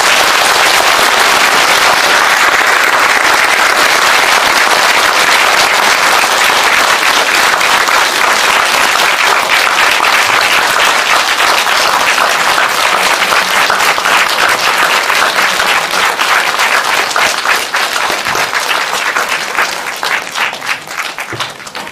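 Large audience at a Buddhist dharma gathering at Bongeunsa temple applauding a monk: dense, loud, continuous clapping that fills the whole stretch, thinning slightly near the end.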